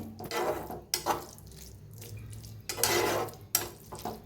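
A spoon scrapes and knocks against a pan as mashed brinjal bharit is stirred and roasted, giving a series of short, close clanks and scraping bursts with brief pauses between them.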